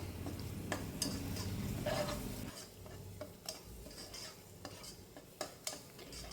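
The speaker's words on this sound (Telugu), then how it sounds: "1 spoon whole garam masala, 1 spoon chicken masala వేసుకొని ఒకసారి బాగా మిక్స్ చేసుకోవాలి" Spoon scraping and stirring whole garam masala and chicken masala in a pan for a dhaba-style aloo egg masala curry, with soft sizzling beneath and a series of sharp, close metallic clinks and taps.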